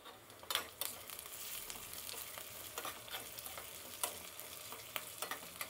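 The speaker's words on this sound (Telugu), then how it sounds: "ఎర్రగడ్డ బాగా వేయించుకుందాము." Onions sizzle in hot oil in a pan while being stirred, a tempering for dal. A steady crackling fry runs throughout with scraping strokes of the spoon at irregular moments, close and moderately loud with no talk.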